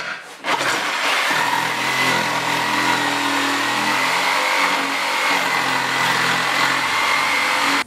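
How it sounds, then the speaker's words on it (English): A power tool cuts an opening in plywood for a club kart rear cover, a loud steady whine running continuously for several seconds after a brief start, alone without talk. "So I'm going to cut this out, clean it up, place the metal over it, and then route the opening."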